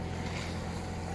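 A sailboat runs under its genoa alone with the engine assisting. A steady low engine drone carries under wind and water rush, continuous and close.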